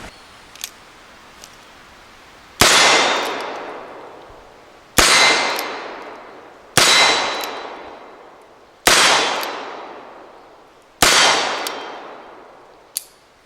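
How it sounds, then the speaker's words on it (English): A Model 1890 Remington replica revolver by Uberti fires black powder 44-40 hand loads, five loud sharp reports spaced a couple of seconds apart, each ringing out with a long decaying tail, alone without talk. "we're shooting 4440 black powder hand loads with it."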